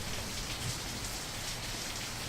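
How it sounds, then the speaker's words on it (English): Looping rain ambience from the visual novel Angels with Scaly Wings, a steady dense hiss of rainfall on surfaces with no pauses or voices. "That rain loop, though"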